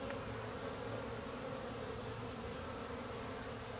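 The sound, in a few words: honey bees buzzing at beehive entrance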